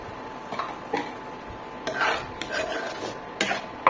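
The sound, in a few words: adding water to curry and stirring in pan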